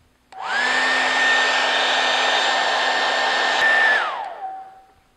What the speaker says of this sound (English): For best results, heat the glue up with a hairdryer.